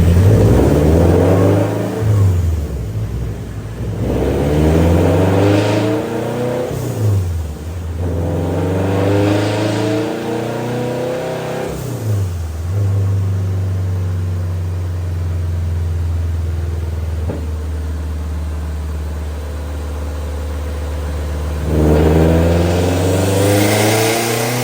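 A turbocharged Toyota FR-S engine revs hard on a dyno, rising in pitch through repeated pulls and dropping back between them, loud and close, with no talking.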